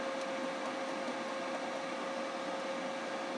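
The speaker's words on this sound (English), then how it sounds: "I'm welding on 110 volt and I have the machine set to manual MIG" Aluminum being MIG welded with a YesWelder LBT 150 spool gun on 110-volt power in manual MIG mode, giving a steady, unbroken hissing buzz with a faint constant hum running through it, close and even, with no voices.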